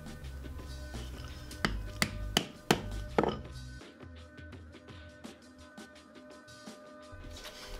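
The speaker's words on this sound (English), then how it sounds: "That's a really great place to hammer in hardware at." Several sharp hammer taps on a hole punch driven into leather on a wooden surface land in quick succession, then a quieter stretch with faint scattered knocks in a workshop-like room.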